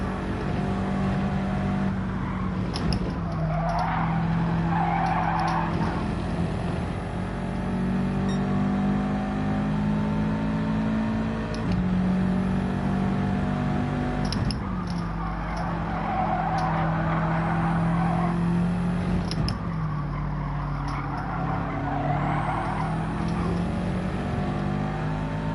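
Race cars in Gran Turismo 7 roar and rev steadily, engines whining through gear changes with repeated tire-skid swells, a continuous loud engine drone throughout with no talk.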